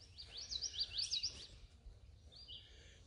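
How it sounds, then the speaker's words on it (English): A house wren sings in a tree at an arboretum on a spring bird walk, delivering a bright bubbling burst of rapid trilled notes with a second shorter phrase following, moderately near and alone over faint background. "There's a house wren singing."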